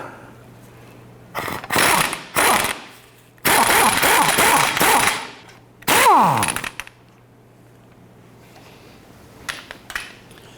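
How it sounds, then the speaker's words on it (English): A 17mm socket tool loosens the upper strut nut on a 2009-2015 Honda Pilot front strut, sounding as several loud whirring bursts of a few seconds each, separated by quiet gaps. "Go ahead and loosen that upper nut."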